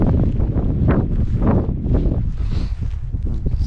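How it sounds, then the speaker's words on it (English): Wind gusts across a hilltop wild camp on Kinder Scout in March, a loud, continuous rushing and buffeting close to the microphone with no voices. "Seems like now the sun's up, that wind's calmed down a bit."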